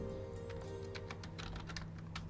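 Fingers type on a computer keyboard, rapid irregular key clicks heard alone and close over a low steady background hum.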